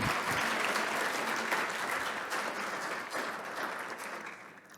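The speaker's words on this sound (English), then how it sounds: "So another round of applause for Linda." Audience at a spiritual talk breaks into steady, moderately loud applause that fades slightly over several seconds, with no speech on top.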